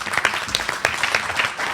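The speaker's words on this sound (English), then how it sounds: "Please give him a round of applause as he comes." An audience at a child abuse prevention and awareness event applauds as a speaker comes up, a dense, lively burst of many hands clapping, fairly close and loud throughout.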